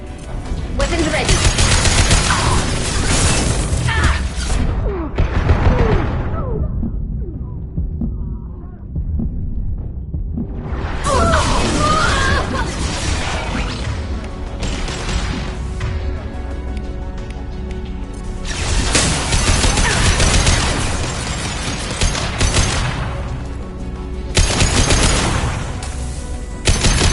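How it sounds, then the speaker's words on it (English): Heavy sustained gunfire and explosions from the video game Mass Effect 2, loud dense bursts with brief lulls, mixed with game effects and some voices. "Taking heavy fire!"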